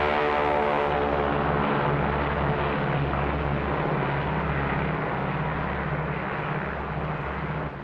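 Dave's Dream, a B-29 bomber, in flight toward Bikini with escort planes: a loud, continuous droning engine roar with a steady low throb, unbroken and close throughout.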